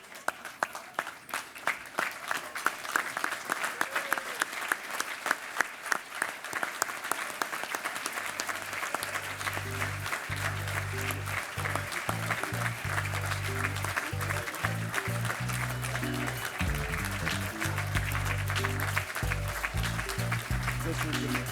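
Sustained audience applause at a Swimming New Zealand awards ceremony, dense clapping from a large crowd throughout, with a low musical hum or organ-like tone joining partway through.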